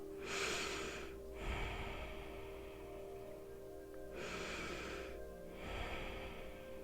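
Slow, deep breaths during a guided relaxation exercise, two long airy inhale-exhale cycles, close and clear, with a steady faint background hum and no talking.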